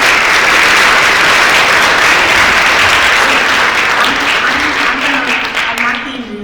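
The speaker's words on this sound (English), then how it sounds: "Let's give them another round of applause." Audience applauding at a music business panel talk, dense loud clapping that gradually fades toward the end as a voice begins to speak.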